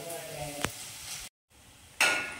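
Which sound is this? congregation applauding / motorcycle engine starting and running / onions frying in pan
onions frying in pan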